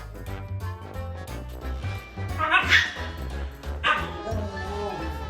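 A husky vocalizes noisily in a long series of yips, whines and bow-wow barks with strained howling peaks, close and loud, alongside other animal sounds.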